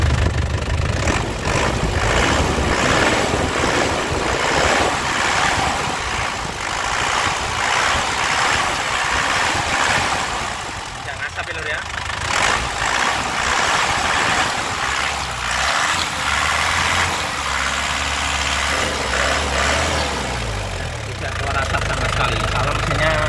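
A 2017 Isuzu Panther LS Turbo diesel engine idles and is revved up and down, a steady rough mechanical drone with rising pushes, heard close while someone talks over it.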